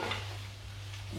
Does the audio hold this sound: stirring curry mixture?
yes